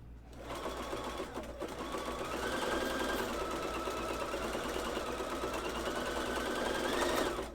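A sewing machine zigzag-stitches women's underwear, its motor running in a steady, continuous hum that stays close and loud with no talk over it.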